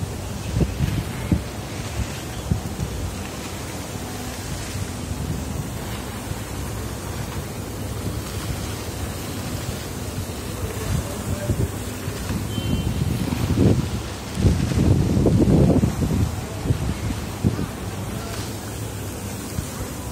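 Water from an outdoor park fountain in Salmiya, Kuwait, rushes and splashes steadily while wind buffets the microphone, with a louder surge of spray partway through.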